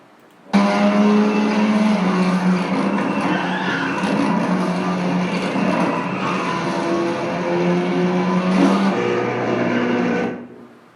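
Race cars lapping a track, a loud sustained engine drone that rises and falls for about ten seconds before cutting off, with no talking.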